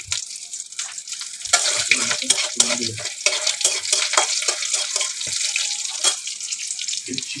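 Crackling sizzle of black cumin and green chili dropped into hot mustard oil, a steady bright hiss with irregular pops and a few clinks of a utensil, no talking.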